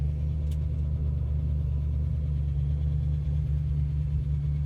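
Original 1964½ Ford Mustang with a 289 V8, four-barrel carburetor and four-speed, idling steadily with a deep, even rumble throughout, close and without talk.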